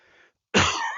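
A faint throaty sound, a short pause, then one sharp, close cough with a rough, raspy tail, a lingering cough after COVID.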